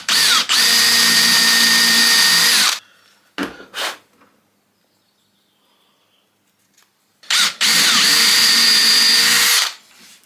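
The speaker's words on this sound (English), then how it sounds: "I'm just going to use my hand drill" A hand drill whirs loudly and close in two long bursts while drilling wood, with a quiet pause and a brief clatter between them.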